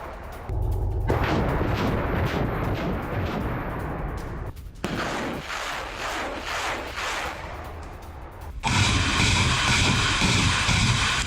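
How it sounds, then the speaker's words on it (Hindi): Russian Grad multiple rocket launchers fire in a loud barrage, dense roaring bursts of launches in several long blocks separated by brief gaps, harsh and close. "ग्रैड रॉकेट लॉन्चर से विध्वंसक हमला।"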